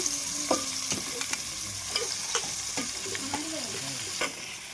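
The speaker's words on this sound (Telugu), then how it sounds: "మంచిగా కలుపుకుందాం ఫ్రెండ్స్ ఆయిల్లో అంతా కలిసేలాగా" Mutton and turmeric being stirred through hot oil in a pan, with a steady close sizzle under repeated scraping and clinking strokes of the spoon, no talking.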